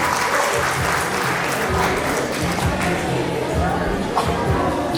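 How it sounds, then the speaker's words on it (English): A crowd at a school annual prize distribution ceremony claps steadily for an art competition winner, the applause dense and continuous with some background chatter mixed in. "Big round of applause."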